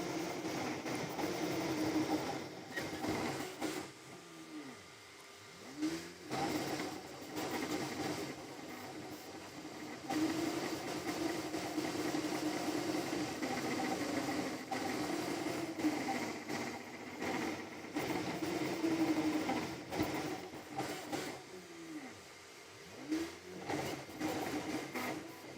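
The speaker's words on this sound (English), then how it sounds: "There's noticeable noise coming from the printer and it's pushing crazy." A Creality Ender 3 V3 CoreXZ 3D printer runs a print, giving a steady mechanical hum with repeated whirring stepper-motor sweeps that rise and fall every few seconds, close and continuous without talk.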